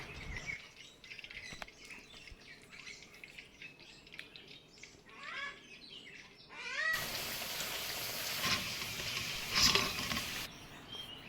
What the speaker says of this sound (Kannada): ಕಬಾಬ್ನ ಪರಿಮಳ ನೋಡಿ ಬೆಕ್ಕುಗಳೆಲ್ಲ ಬೊಬ್ಬೆ ಆಗ್ತವೆ.